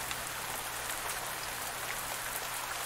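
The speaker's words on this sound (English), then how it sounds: "Oh, it is so rainy." Steady rain in the farming game Pumpkin Days, a dense, even hiss of falling drops on surfaces that holds constant throughout with no talking.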